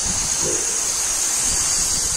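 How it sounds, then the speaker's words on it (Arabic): A waterfall in the Amazon jungle roars close by, a loud, unbroken rush of falling water with a hiss that fills the whole clip. "الشلال فوق منا"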